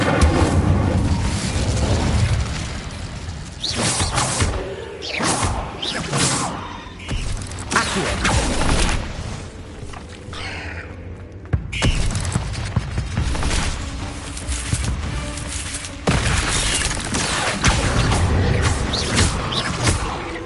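Repeated fiery spell blasts from the Incendio fire spell in the Hogwarts Legacy game on PS5, loud booming bursts and crackles coming one after another across dense, continuous combat noise.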